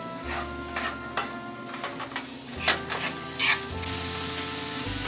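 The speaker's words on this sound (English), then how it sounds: "I'm just gonna stir these around I'm looking for the onions to be translucent" Onions sauté in a pan with a bright sizzle while a spoon stirs them, giving a few scraping strokes and soft knocks. The sizzle swells louder toward the end.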